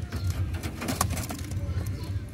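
Clean domestic pigeons coo softly in low, repeated murmurs close by, mixed with faint wing and cage rustles, while someone talks over them.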